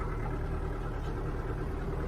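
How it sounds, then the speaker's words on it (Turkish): A tractor engine runs steadily at close range on the way to a garden, a continuous low rumbling drone with constant vibration and no breaks, unaccompanied by voices. "Bahçemize gidiyoruz traktörle."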